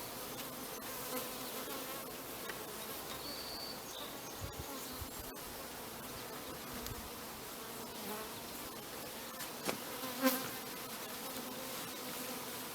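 Honeybees drone continuously around an opened hive as the covers come off to fit escape boards, a dense, even buzz of many insects close by, with occasional soft knocks from the hive work and no talking.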